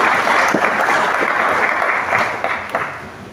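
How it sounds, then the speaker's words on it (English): Graduation assembly audience clapping loudly for the graduates, a thick, continuous wash of many hands close by that stays strong and then tapers slightly toward the end, with no speech over it. "we clap for them."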